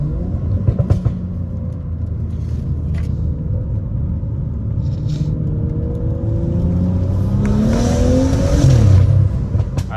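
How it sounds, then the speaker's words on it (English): A Stage 2 tuned BMW F30 with 100K miles rumbles loudly from inside the cabin as it accelerates, the engine note climbing through the revs, with a sharp burst near the end as it shifts. "I like the brap on the shifts, upshifts, and then when you let off throttle, also does a cool brap"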